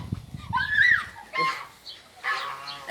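Geese honk in short loud bursts, three separate calls spaced about a second apart, close by, with faint background voices and bustle in between.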